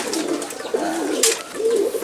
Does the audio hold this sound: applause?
no